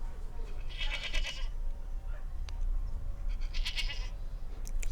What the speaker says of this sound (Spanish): Como sexto la cabra,